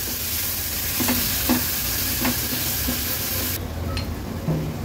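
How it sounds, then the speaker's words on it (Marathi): Small onions frying in oil with ground masala paste, a steady close sizzle broken by several soft stirring scrapes against the pan, with no talking. "परतून झालं की ह्याच्यामध्ये अगदी छोट्या साईजचाच कांदा घेतला आहे तो ऍड करते, तो देखील शिजवून घ्यायचा आहे।"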